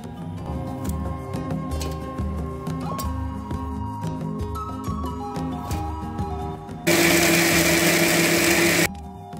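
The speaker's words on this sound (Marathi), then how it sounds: "आता हे सर्व मिक्सर मध्ये बारीक करून घेऊया।" A mixer grinder whirs through roasted onion and coconut in a loud, harsh burst of about two seconds that abruptly cuts in over quieter tonal background music and then stops.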